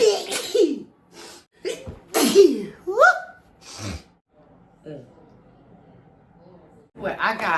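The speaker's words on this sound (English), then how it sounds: "I gotta sneeze." A single sharp sneeze follows a quick inhaling gasp, close and loud, with short breathy sounds and a bit of voice around it.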